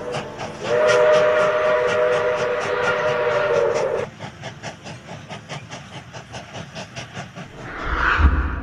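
A train sound effect in a narrated adventure story: a long steam-style whistle sounds over rhythmic rolling wheels, then the carriage clatter continues alone before fading out.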